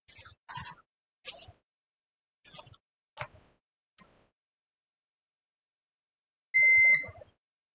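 A multimeter's short electronic continuity-test beep rings out clearly near the end, preceded by a few faint clicks and taps, while checking ground on an Acer E5-573G laptop.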